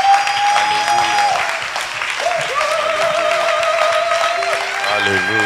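A church congregation at a conference service cheers and applauds loudly, with sustained clapping and shouting crowd voices filling the hall for several seconds, and a voice calling out over the noise.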